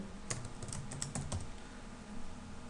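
Typing on a computer keyboard while entering text in Notepad, a short burst of several key clicks over steady background noise, with no voices.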